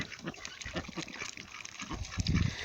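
Female ducks in a muddy breeding pen make soft, irregular low grunts, several short bursts close to the microphone, rising into a louder cluster near the end, with no talking.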